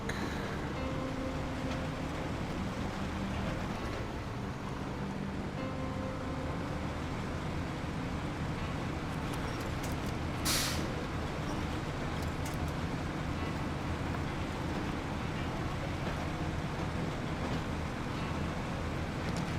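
A heavy truck rumbles along a slow, rough off-road stretch in SnowRunner, giving a continuous low engine drone with a brief mechanical whine partway through.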